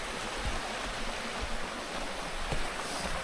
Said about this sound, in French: il y a un petit ruisseau à côté, on l'entend